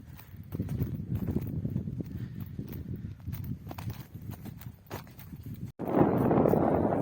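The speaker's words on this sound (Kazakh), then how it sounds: "жаңағы жылқылар жүр." Horses moving across open pasture, hooves clip-clopping in a loose, uneven rhythm at moderate distance, with wind buffeting the microphone and a louder gust near the end.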